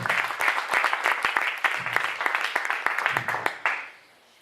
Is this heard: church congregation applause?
yes